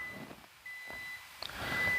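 An electrical tester emits steady high-pitched beeps while probing an RV's lithium battery circuit to show power is present; tones come in two sustained stretches, moderately loud against faint background rumble.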